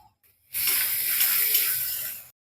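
Water pours steadily into a pan of ground spice paste with turmeric and salt, a continuous splashing hiss lasting about two seconds, close and fairly loud, with no talking.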